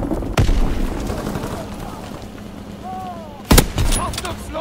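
A bomb explosion in the World War II shooter Call of Duty WWII, two sharp loud booms with rumbling tails amid continuous battlefield noise and faint gunfire.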